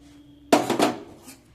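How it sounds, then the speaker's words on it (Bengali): A spoon or utensil knocks against a bowl while flour and rice flour are mixed for nolen gur pitha, giving a couple of close, short clinks in quick succession before it goes quiet. "দিয়ে সব কিছুকে ভালো করে মিশিয়ে নেব"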